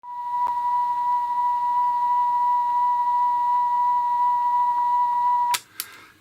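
A Roberts RC 35 radio cassette, freshly repaired, plays a steady test tone for about five and a half seconds, loud and unwavering with a faint click near the start, then cuts off abruptly into a couple of short clicks and handling noises.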